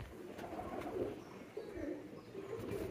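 A pigeon cooing nearby, low soft repeated coos rolling over a quiet background.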